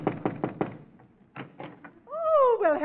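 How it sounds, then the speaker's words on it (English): Knocking on a front door in an old comedy scene: four quick, crisp raps, a short pause, then three more. A voice starts speaking right after. "Knock on the door and see if she's home."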